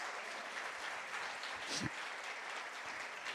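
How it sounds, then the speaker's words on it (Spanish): A church congregation at a Spanish-language sermon applauds in a dense, continuous wash of clapping, heard faint and somewhat distant, with a brief louder burst midway. "Fuertes aplausos al Señor."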